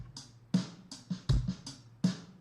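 A programmed drum groove with crisp hi-hat, kick and accented snare hits, lower-velocity sixteenth-note ghost notes on the snare filling between the backbeats, played alone at a moderate tempo.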